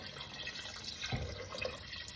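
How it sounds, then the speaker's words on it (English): Water poured from a measuring cup into a pot of tripe for Portuguese-style tripe with white beans, a faint splash and trickle that swells briefly mid-clip against quiet kitchen background. "I'm going to add some water."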